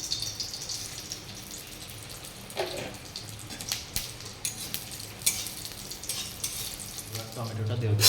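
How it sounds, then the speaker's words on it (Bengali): Bengali five-spice panch phoron tempering sizzling in mustard oil in a kadai, a steady soft sizzle with scattered clinks and spoon taps, rising toward the end. "তার জন্য সরষের তেল আর পাঁচ ফোড়ন দিয়ে দেওয়া হচ্ছে।"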